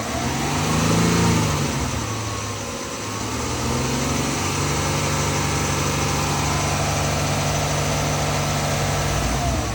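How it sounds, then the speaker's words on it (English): Dodge Ram 1500 Express 3.6-litre V6, a 2018 truck with an erratic temperature gauge, revving under the hood: a loud, close, steady engine drone that swells early then holds a constant pitch. "You want to rev it and I can see if I can figure out where that's coming from?"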